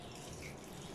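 Plain tap water poured steadily into a bowl of mixed flour for samosa dough, a continuous close splashing pour lasting about a second with no voices.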